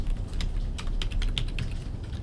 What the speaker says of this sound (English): With it being selected, I can just start typing